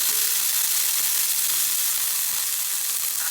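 Very hot oil sizzling steadily in a frying pan before an omelette is cooked, a constant loud hiss with no break and no talking.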